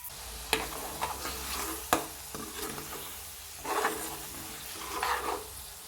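Dried fish curry cooks in a pan and is stirred, with a few sharp scraping knocks and soft wet swishes over a quiet sizzle, close by.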